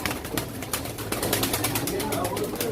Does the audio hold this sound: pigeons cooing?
yes